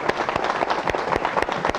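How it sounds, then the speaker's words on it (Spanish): Students in a university medical faculty lecture hall applauding, loud dense clapping from a crowd that carries steadily, with sharper individual claps standing out. "así que vamos, aplauso."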